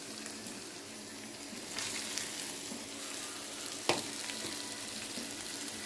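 Ivy gourd curry with onions frying in a pan, a quiet, steady sizzle that swells slightly partway through, with one sharp clink of a utensil near the end.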